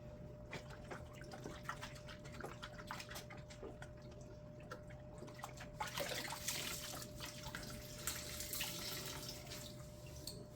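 Water in a sink where loofahs are soaking, a faint trickle and drip with light splashing that grows a little busier and louder partway through, no talking.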